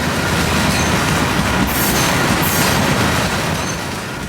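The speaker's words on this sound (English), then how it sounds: "A whole bunch of Omni gondolas were on this train" A freight train of Omni gondola cars and a few intermodal cars rolls past close by in a loud, continuous roar of wheels on rail, with metallic squeals rising briefly partway through.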